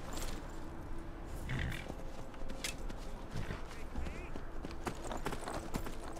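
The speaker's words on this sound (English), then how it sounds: "Come back here, you horse!" Horse hooves clip-clop across ground in Skyrim, a quiet irregular run of distinct hoof strikes over a low ambient game bed, with some talk in the background.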